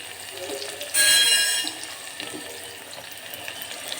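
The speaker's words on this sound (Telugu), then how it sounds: "ఇప్పుడైతే తరిగి పెట్టుకున్న ఆనియన్ అయితే వేసేసుకోవాలి ఇవి వేసుకొని కొద్దిగా ఫ్రై అవ్వనివ్వాలి" Chopped onions tipped into a pan with curry leaves bursting into a loud hissing sizzle, then settling into a softer, steady frying crackle for the rest of the clip.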